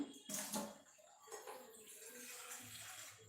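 Water poured from a container while making naan dough in a home kitchen, a splashing, trickling pour that swells and rustles over about three seconds, close and fairly loud.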